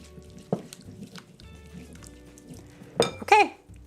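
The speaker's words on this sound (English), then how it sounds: "we're just gonna give that a little mix" A utensil clinks against a bowl while lamb chop marinade with dried herbs is mixed, giving a few sharp metallic taps and a brief scraping stir, close and clear.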